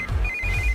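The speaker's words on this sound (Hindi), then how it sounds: "इस वक्त दीदी का फोन।" A telephone rings with a steady electronic tone over low background rumble, one sustained ringing burst.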